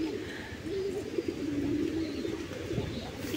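Doves kept alongside pigeons, perched in a tree, coo in a steady, low, rolling series close by, with soft birdsong and no talking.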